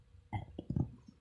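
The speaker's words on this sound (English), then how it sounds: "Burp." A short, low, gurgling burp lasting under a second, quiet and close, heard alone.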